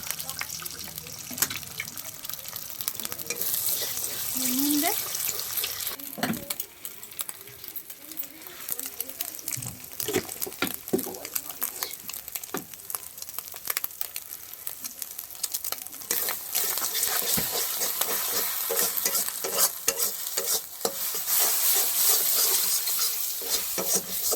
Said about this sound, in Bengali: এখন ডিম ভুজিয়া হচ্ছে